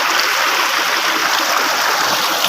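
Cold water flows in a continuous stream, a loud, close, steady rushing hiss with no pauses.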